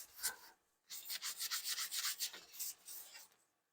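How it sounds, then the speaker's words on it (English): A painted wooden Christmas tree collar is sanded by hand with quick back-and-forth strokes, a soft raspy rubbing after one short pass and a pause, close and fairly quiet, with no talk. "Again, give it a little sanding."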